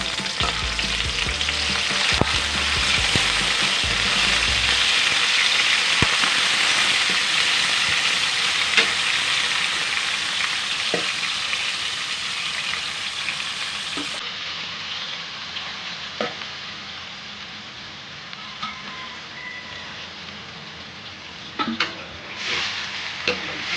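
Baluko shellfish fry in a hot pan, giving a loud continuous sizzle with occasional clinks as they are stirred, the sizzle easing slightly over time.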